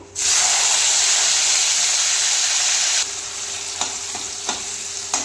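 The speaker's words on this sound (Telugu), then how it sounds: "ఆ నూనె అయితే వేడైంది వేడైనాక మసాలా అయితే వేసేసుకుంటున్నానండి టమాటా ముక్కలు" Masala and tomato pieces frying in hot oil for gongura chicken, a loud steady sizzle that drops slightly partway through and keeps hissing, with a few faint clinks of a utensil near the end.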